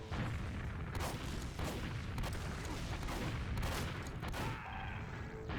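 Shotgun fire in a Team Fortress 2 MGE tournament match, with repeated sharp blasts and booms packed closely together over steady, dense game noise.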